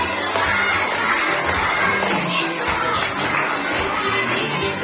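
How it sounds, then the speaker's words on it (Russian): Guests at a Kyrgyz tushoo kesuu toddler celebration in a Bishkek banquet hall cheer and shout in a loud, continuous crowd roar, with children's voices and hubbub filling the room. "Ручками хлопаем и кричим: поздравляем!"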